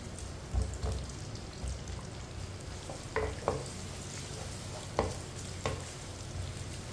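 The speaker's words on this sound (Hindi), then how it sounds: "प्याज को हल्का सा ब्राउन कर लेंगे।" Chopped onion frying in half a cup of oil for dal palak, a soft continuous sizzle broken by occasional stirring clinks and scrapes, close and moderately quiet.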